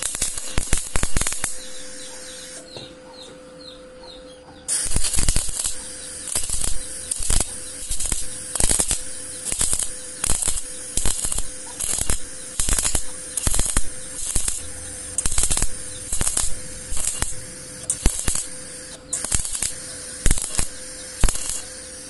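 Sputtering, crackling welding arc in irregular bursts, buzzing and popping in short rhythmic pulses, close and fairly loud.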